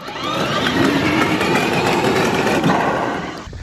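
A modded Power Wheels ride-on car fitted with rubber tires and wheelie bars runs at full throttle, a steady, close motor whine with rolling tire rumble that holds for several seconds and then eases off at the end.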